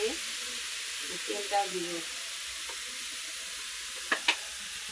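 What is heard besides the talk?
stirring food frying in oil with salt and turmeric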